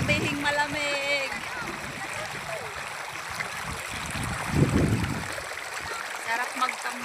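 Steady broadband rush of flowing river water at the Angat river in the Philippines, continuous throughout, with people talking and splashing nearby over the constant stream.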